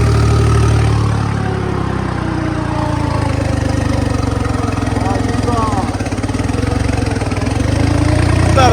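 A low, steady tractor engine idles close by with a continuous rumble throughout, while faint voices talk over it on a Punjabi farm.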